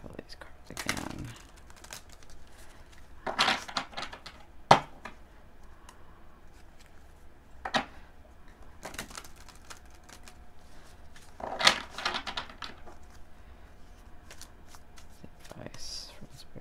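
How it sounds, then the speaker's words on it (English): Several bursts of tarot cards being shuffled, crisp riffling rustles spaced apart with soft handling noises and quiet movement between them. "Shuffle these cards again."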